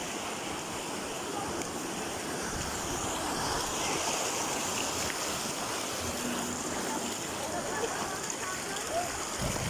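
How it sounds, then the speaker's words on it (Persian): Floodwater from a mudflow rushing through the village lanes and canals of Amondara, Panjakent, a constant loud roaring wash with wind buffeting the microphone. "کوچه پری آب."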